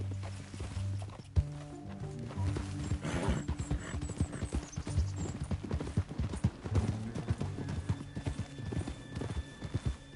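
Steady clip-clop of horse hooves trotting at a brisk, even rhythm in the video game Red Dead Redemption II, fairly close, continuing throughout with faint background sound.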